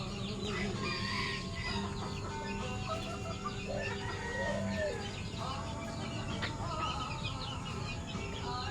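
Chicks and chickens on a farm cluck and cheep continuously, with overlapping close calls and occasional louder clucks forming a busy, steady backdrop, no talk heard.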